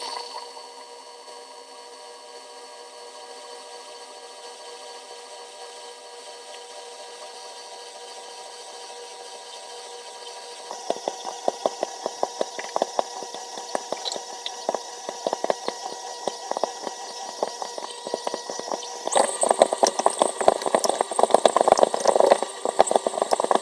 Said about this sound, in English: Now I'm just mixing this on low speed just to get it combined, and then I'm going to turn up the dial to medium to knead it